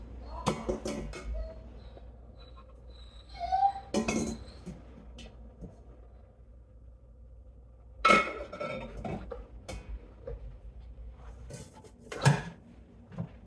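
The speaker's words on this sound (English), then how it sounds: "Put these down into my Instant Pot." Glass jars with lids being set into an Instant Pot: a few scattered clinks and knocks of glass against metal, separated by quiet gaps, close and moderately loud.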